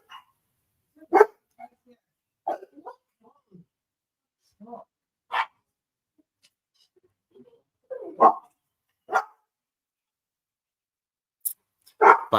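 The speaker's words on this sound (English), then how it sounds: "Dogs are going to go off." Dogs bark in several short, loud bursts spread across the clip, with quiet gaps between them and faint background voices.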